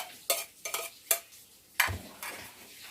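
Santol fruit is pounded whole with other salad ingredients in a mortar, giving several sharp thuds and clacks at an uneven pace, up close and fairly loud, with no talking.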